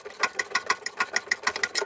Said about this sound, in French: je vais prendre une clé de 10. Je vais la régler en desserrage. Et on desserre, et on desserre.